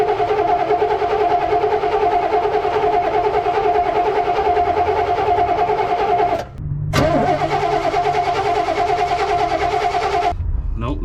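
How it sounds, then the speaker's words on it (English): A 1968 Oldsmobile Delmont 88 with a 455 big-block V8 cranks over repeatedly on a starved fuel pump without catching, a loud rhythmic starter churn with a brief pause midway, close up. "We're gonna turn over the engine a bunch, and then see if anything comes out of here."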